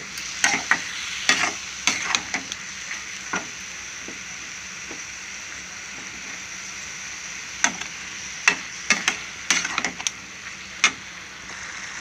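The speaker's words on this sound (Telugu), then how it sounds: "ఇలా ఆయిల్లో ఫ్రై అయిపోవాలన్నమాట ములంకాయలు ఇవన్నీ" Drumsticks (moringa) and spices frying in hot oil, a steady bright sizzle with repeated stirring scrapes and clicks throughout, close and fairly quiet, no talking.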